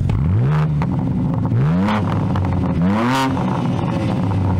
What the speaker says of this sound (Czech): ty cold starty jsou dost tichý, ale turování to taky přijde